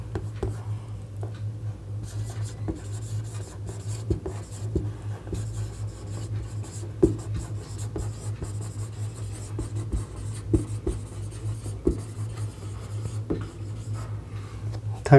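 Pen or chalk writing out a gravitation physics problem during a lesson, with faint scratchy strokes and light taps over a steady low hum, close and quiet, with occasional soft speech.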